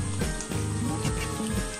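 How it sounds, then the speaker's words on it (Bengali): A whole spiced chicken for murg musallam fries in a large pan over medium heat, making a steady close sizzle with soft bubbling and occasional clicks. "চুলাটা মিডিয়ামে রেখে আমি এটাকে ভাজছি"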